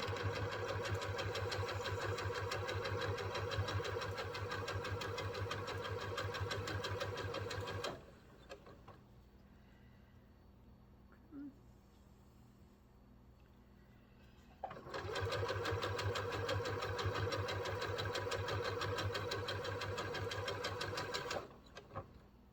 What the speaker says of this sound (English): And now we're going to sew the bottom.